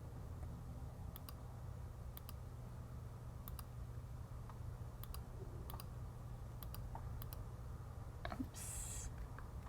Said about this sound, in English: So I'm going to click it right there.